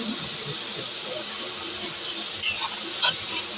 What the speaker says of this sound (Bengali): মাংসটাও এখানে ভাজা হচ্ছে।